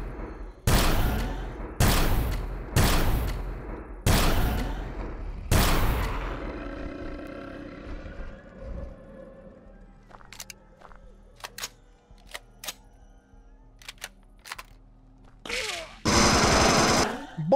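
Gunfire in the video game 7 Days to Die, about six loud, evenly spaced shots fired close by, followed by fainter clicks and scattered thuds, ending with a louder burst.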